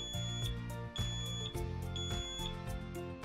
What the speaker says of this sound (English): Models that include an audible alarm have multiple tones to choose from